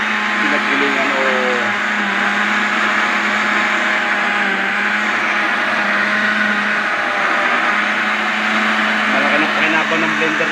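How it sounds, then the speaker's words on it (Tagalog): An electric blender runs steadily throughout, grinding a natural chicken feed supplement, a loud continuous motor whir with a low hum beneath and faint voices now and then. "malaki na pakinabang ng blender na to"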